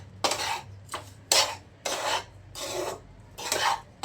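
Dry ginger powder is stirred into a wheat flour ladoo mixture, five or six separate gritty scraping strokes against the bowl, close and fairly loud with short pauses between.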